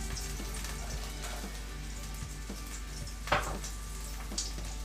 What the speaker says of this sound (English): just to start sweating this little spinach off in the pan. And then we're going to add the onions.